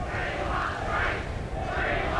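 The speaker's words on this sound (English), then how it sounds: "We want 3, the chant from the Australians in the crowd" Australian fans in a field hockey stadium crowd chanting a rhythmic three-beat chant during a 1992 men's semi-final against the Netherlands, a broad roar rising and falling in steady pulses, fairly distant.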